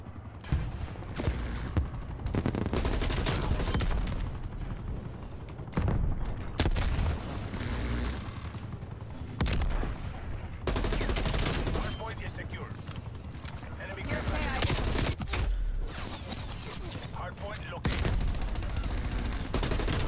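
Rapid assault rifle gunfire in Call of Duty: Modern Warfare II, dense bursts of shots repeating loudly for most of the stretch with brief gaps, mixed with game effects and a voice talking over it.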